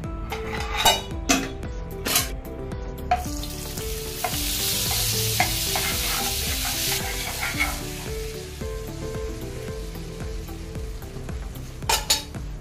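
Chicken pieces frying in oil and Amul butter in a frying pan, a loud continuous sizzle with clinks and scrapes of utensils against the pan, sharp knocks near the start and end.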